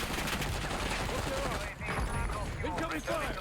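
Rapid bursts of automatic gunfire in a Call of Duty Warzone match, dense and continuous with overlapping shots throughout, loud and close.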